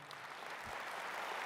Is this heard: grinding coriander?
no